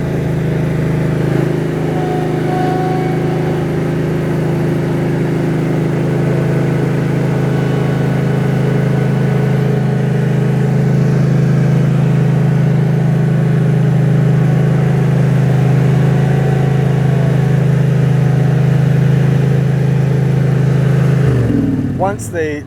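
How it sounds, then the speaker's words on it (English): A Wacker Neuson RD12 compaction roller's engine runs in gear while the machine is winched onto a tilting trailer. It makes a loud, steady mid-pitched drone for about twenty seconds, then cuts off abruptly near the end. "you'll start the machine up and you'll put it in gear just slightly as you winch forward"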